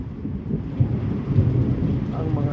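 Heavy rain pours in a steady, dense roar with low rumbling thunder rolling beneath it, loud and continuous throughout.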